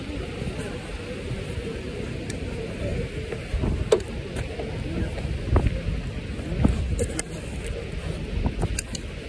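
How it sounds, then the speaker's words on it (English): Steady cold wind buffets and rumbles against the microphone outside M&T Bank Stadium, with low gusty noise and occasional faint clicks throughout. "Very cold and windy."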